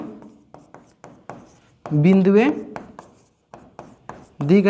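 Pen or chalk scratching out a handwritten geometry solution in short, repeated strokes, close and fairly quiet, with a voice speaking in the middle and at the end.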